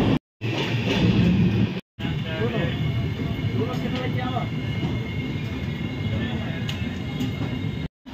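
13151 Jammu Tawi Express train running, a loud continuous rumble and clatter of the carriages heard from on board. There are brief dropouts near the start and end, and a voice may be faintly mixed in.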